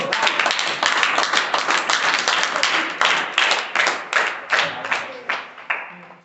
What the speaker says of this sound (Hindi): मेरी ताली बजा दो।